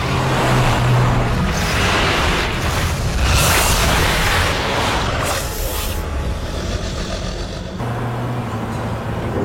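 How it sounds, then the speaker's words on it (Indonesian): A car speeds away in a dragon fantasy film scene, a loud engine roar mixed with booming effects that swell and fade over several seconds, with no talk. "mereka berdua langsung kabur dengan mobil"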